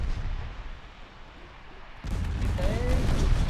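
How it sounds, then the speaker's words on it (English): Torpedoes launching from a warship in the naval battle game Ultimate Admiral Dreadnoughts: a heavy low boom bursts in halfway through, then a loud rumbling roar that holds to the end, with a quieter stretch before it. "Torpedoes away."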